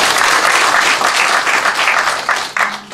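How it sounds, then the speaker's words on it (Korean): Audience at a county town-hall meeting gives a loud round of applause, close and dense clapping that tapers near the end. "오신 여러분들께서 큰 박수 한번 주십니다."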